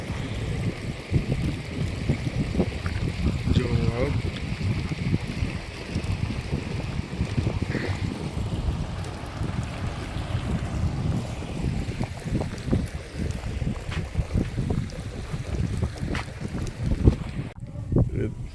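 A farm water pump motor runs steadily with water flowing, a continuous rumbling, wind-buffeted wash heard close throughout, with a voice speaking briefly over it.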